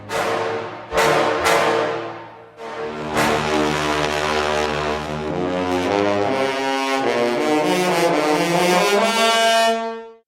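Full, sustained brass ensemble chords from Vienna Symphonic Library's Synchron Brass sample library swell and shift in harmony, with a couple of sharp attacks early on, loud and rich throughout.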